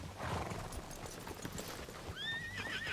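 Clip-clop of horse hooves plods steadily through a video game scene, and a horse whinnies toward the end, its neigh rising and wavering above the footsteps.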